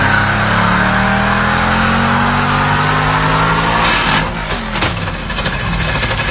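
A car engine revs hard and sustained during a burnout, held on the throttle just below the rev limiter, loud and close with a roaring harmonic drone, then choppy bursts near the end.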